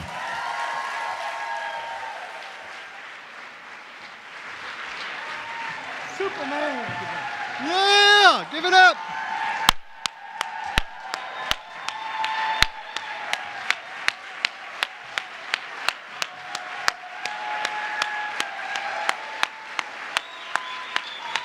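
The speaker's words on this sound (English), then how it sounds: "Give yourselves a round of applause." An audience at a closing plenary session of an annual convention applauds with dense, sustained clapping that fills the room, joined by a few whoops and voices. Sharp single claps stand out against the crowd noise.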